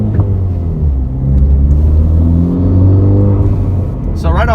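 A Honda Civic Type R engine rumbles low and loud, close up, rising through a revving acceleration while a voice talks over it, with a brief higher whine near the end.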